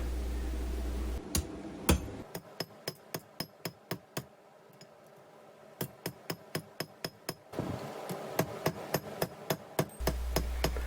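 Hammer blows ring on a steel bar against an anvil while drawing out a taper with four flat sides and a point, arriving in steady rhythmic bursts with a brief pause between groups, close and loud with metallic ringing.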